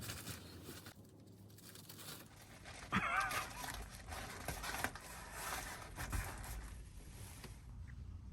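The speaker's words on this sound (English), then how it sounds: "shop dog" A dog in a workshop lets out soft whimpers and a short bark amid shuffling and movement, faint and close by.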